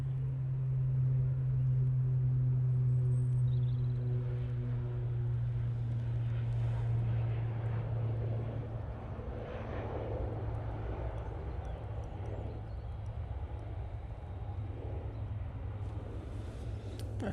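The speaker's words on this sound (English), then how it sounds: "Aer Lingus ATR, now on the roll" An Aer Lingus ATR turboprop on its takeoff roll at Manchester Airport gives a low, droning propeller hum with a strong steady tone that fades after several seconds into a quieter, distant rumble.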